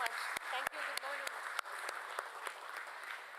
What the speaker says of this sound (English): Let us have a resounding of claps for her.